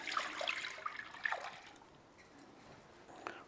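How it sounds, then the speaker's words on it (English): Earl Grey tea is poured into a bowl as a marinade for dried fruit, giving a faint, light splashing trickle that tapers off after a couple of seconds. "First of all, we'll pour our tea in here."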